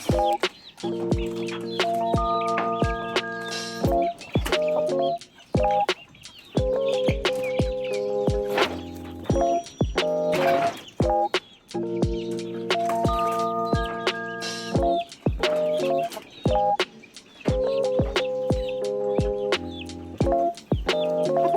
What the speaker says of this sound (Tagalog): ito nga pala yung manok na galing sa papa ni Andrea.